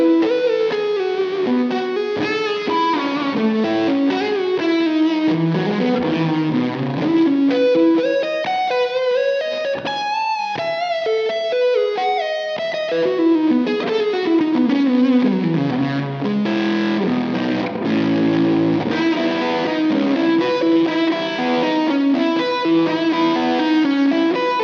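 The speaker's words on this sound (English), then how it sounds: "Let's hear that now, same tone but on the neck." A distorted, fuzzy electric guitar on the neck pickup of a Gibson Custom reissue plays a melodic riff with chords and single notes, warm and rounded, loud and continuous for about twenty-five seconds.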